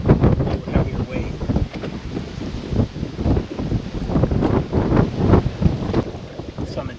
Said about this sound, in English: Some intense wind going on.